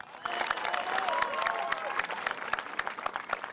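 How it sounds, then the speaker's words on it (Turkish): Audience at a televised children's festival event applauding, a lively patter of many hands mixed with a few cheers and crowd voices, fairly close and continuous throughout. "Yeniden kocaman bir alkış alalım mı?"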